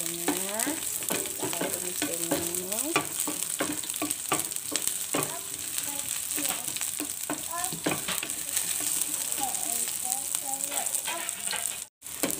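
Chili frying in a pan with softened shallots for Indonesian clear spinach soup, a steady close sizzle with repeated stirring scrapes, briefly cutting out near the end.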